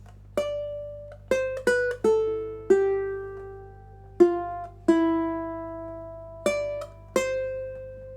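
Plucked ukulele notes pick out a slow melody, each note ringing and decaying, with uneven pauses between phrases against faint background hum.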